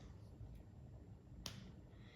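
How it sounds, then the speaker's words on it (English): A single sharp finger snap rings out once, brief and fairly close, against a quiet hiss of background noise, with a fainter snap-like tick just before it. "Mr. Crump hears somebody snap their fingers"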